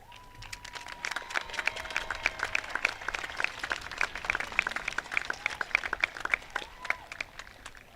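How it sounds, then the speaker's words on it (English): Applause at a high school graduation ceremony, a dense, steady crowd clapping that continues evenly for several seconds with no one speaking. "Please stand for applause."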